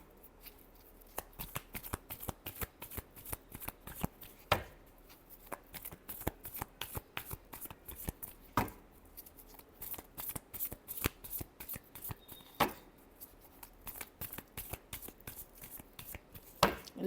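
Tarot cards being shuffled by hand, a long run of crisp close riffles and flicks repeating at a quick uneven rhythm, with a few louder slaps.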